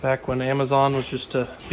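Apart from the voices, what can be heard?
None of the usual background noises is heard.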